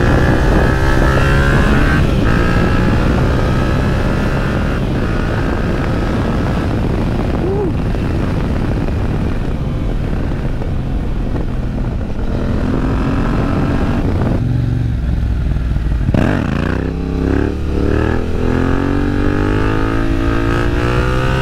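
A Beta 125 dirt bike engine revving while riding, its two-stroke note rising and falling through gears, loud and close with wind noise throughout.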